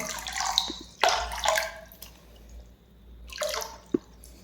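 Yeast mixture is poured into a tub for culturing moina, giving soft, scattered splashes and drips in short bursts with quiet gaps between.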